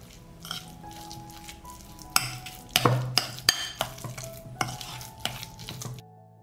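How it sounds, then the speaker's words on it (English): A cream cheese stuffing mixture with salt and pepper is stirred in a bowl: a close series of sharp utensil knocks and scrapes against the bowl, sticky squelching between them, with no talk and a quiet end. "I will combine the mixture."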